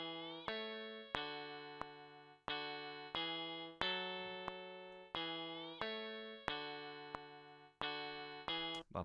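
Two layered guitar loops sequenced in GarageBand, a repeating pattern of sharp plucked chords struck about every two-thirds of a second, each ringing and decaying before the next, clean and alone.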